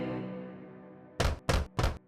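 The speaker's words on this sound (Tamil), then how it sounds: "எனவே அது மீண்டும் குடிசைக்கு சென்று கதவை தட்டியது." Three firm, evenly spaced knocks on a hut door ring out close and loud after a fading musical tone, with no talk.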